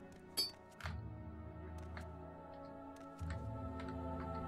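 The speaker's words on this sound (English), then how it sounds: "I heard some noise. Like a clink." A single faint, glassy clink in the game Morrowind, sharp and brief, followed by a low steady background hum.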